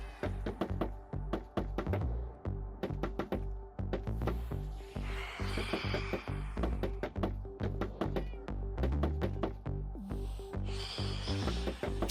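A Minecraft cat meows repeatedly amid rhythmic in-game thumps and clicks, the meows coming in short bursts over a busy pattering background, no voice.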